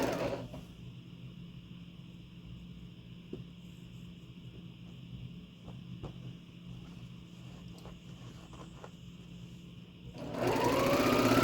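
A sewing machine stitches quilt pinwheel block pieces with a soft, steady whir and faint light clicks, slow and even; near and quiet, ending in a sudden louder burst of noise.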